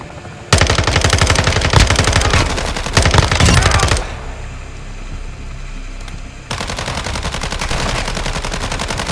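Call of Duty DMZ gunfight with long, loud bursts of rapid machine gun fire, a brief lull of quieter ambience midway, then sustained firing resumes.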